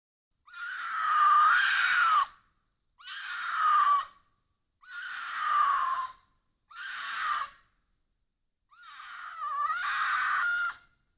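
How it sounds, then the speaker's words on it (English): Mountain lion screams ring out loud and close, five long, wavering shrieks like a woman's cry, each separated by brief silences. "Mountain lion scream."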